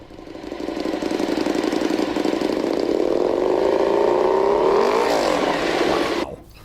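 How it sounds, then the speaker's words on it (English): A Royal Enfield motorcycle engine roars loudly and steadily close by, its exhaust note rising in pitch before cutting off abruptly. "my favorite thing about this bike is the exhaust. She just sounds plain mean."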